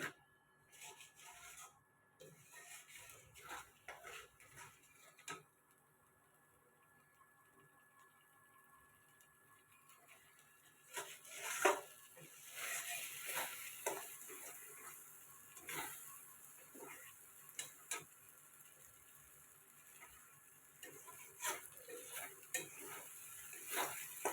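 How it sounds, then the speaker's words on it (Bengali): Pabda fish curry in mustard sauce is stirred in a pan over a low flame, with soft scraping and rubbing of the spoon, a faint sizzle and light clinks of metal, quiet and intermittent. "নেড়ে চেড়ে নেবো"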